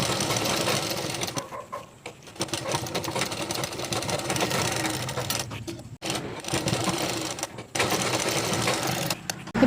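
A sewing machine stitches a cross piece onto a nightie neckline in fast, continuous bursts of rattling needle action, halting briefly twice and restarting, close up with no talk.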